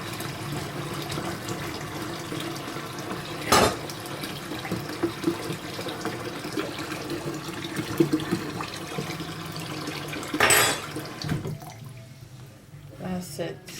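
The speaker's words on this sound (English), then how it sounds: "So still going to add more cold water into it." Cold tap water running steadily into a bowl in a home kitchen while fried rice is being made, a moderate continuous splash with a couple of louder knocks, fading out near the end.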